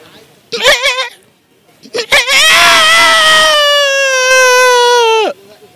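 A man mimics a goat, giving a short nasal bleat, a pause, then a long, loud, wavering bleat that holds for about three seconds before breaking off.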